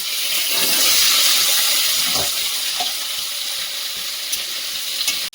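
Potatoes, nigella seeds and split green chillies frying in hot oil in a wok, a loud steady sizzle that swells early and then settles into a constant hiss with small crackles.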